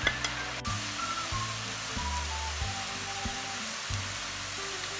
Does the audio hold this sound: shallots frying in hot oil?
yes